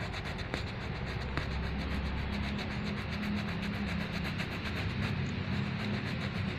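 Steady rubbing and scraping as the rubber of a punctured bicycle inner tube is roughened and smoothed by hand for patching, a continuous close abrasive sound with no voices.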